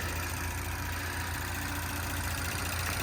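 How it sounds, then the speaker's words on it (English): Twin-scroll single-turbo 3.0-litre hot-V V6 in a 2019 Audi S4 Prestige idling: a steady, even low hum with a faint mechanical hiss, close and continuous, with no voices over it. "Here's our V6."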